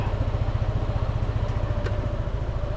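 A motorcycle engine idles quietly and steadily nearby, a low, even pulsing rumble with no revving, heard alone without any talk.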